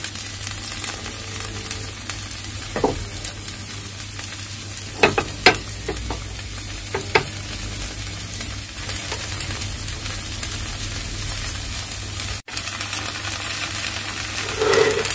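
Tomato dosa batter sizzles and fries on a hot nonstick tawa, a continuous close crackling hiss with occasional light scraping and clinks and no talking.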